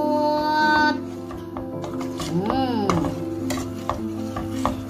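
Macaroni spaghetti with tuna stirred in a pan over a high flame, a steady soft sizzle with scraping stir strokes, close and continuous, with faint tonal background sounds but no talk.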